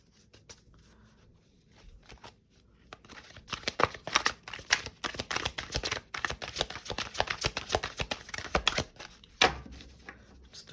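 Tarot cards riffled and shuffled in quick, dense bursts of crisp flapping and snapping, close and fairly loud, with a brief pause before a final flurry.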